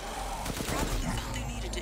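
A powerful gun fires a rapid automatic burst against werewolves in Resident Evil Village, close and loud, with a voice speaking over the shots.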